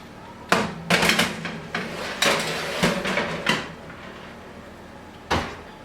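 A baking tray of pastries is slid into a preheated oven at 180 degrees and the oven door bangs shut, giving a series of sharp metallic clanks and knocks, close and fairly loud.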